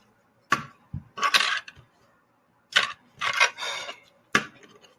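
Plastic parts of a Core Class Grimlock transforming action figure click and snap in short bursts, several quick sharp clicks and rattles separated by brief pauses, close up with no talking.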